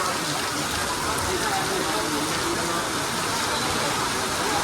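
Heavy rain pours down at an open sports ground used for tug of war practice, a dense, unbroken hiss of drops striking the surface, loud and steady throughout with faint voices in the background.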